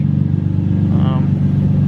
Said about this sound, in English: you can kind of hear it's got an exhaust leak because it's missing half of its exhaust